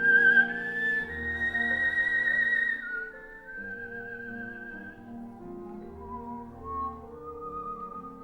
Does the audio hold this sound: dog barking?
no